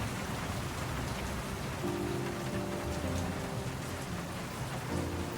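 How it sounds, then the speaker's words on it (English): Heavy rain beats against an office window in World of Goo 2, a dense steady hiss of drops with low rumbling and faint tones beneath, continuous throughout. "The rain beats against the office window."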